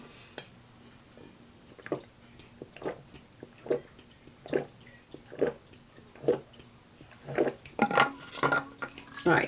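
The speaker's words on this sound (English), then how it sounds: "I gulp so loud." Someone drinking water in a quiet room, a series of about a dozen distinct, close, wet gulps and swallows at a fairly regular pace, growing slightly louder and quicker toward the end.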